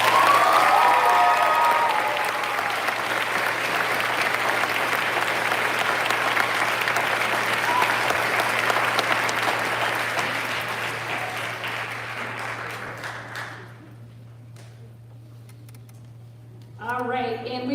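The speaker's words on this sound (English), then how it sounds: "So let's give Sion another round of applause" Sustained, enthusiastic applause from a concert audience at a band finale concert, filling the hall for over ten seconds before fading away, with a low steady hum beneath and a brief burst of voices at the end.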